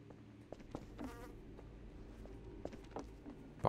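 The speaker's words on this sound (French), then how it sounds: "Par contre, la mouche, tu te calmes, je suis pas ton pote." A fly buzzes in the video game Half-Life 2 Episode 2, a close, persistent droning hum with small pitch swells, running through the whole stretch over low game ambience and a few soft clicks.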